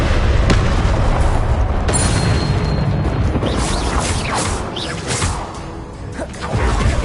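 Spell-casting effects and explosions from Hogwarts Legacy, a dense, loud barrage of booms, whooshes and crackling blasts layered over one another with barely any pause.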